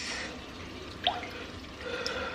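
Beef and broccoli sauce containing sugar poured in a home kitchen, a faint liquid trickle with a couple of small drips and splashes, quiet throughout.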